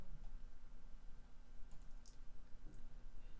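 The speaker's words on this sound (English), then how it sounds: "the bot is taking control of the mouse and the keyboard" Soft, rapid clicking of a computer mouse and keyboard driven by an automated bot playing a video game, a scatter of light taps at low level with no talking.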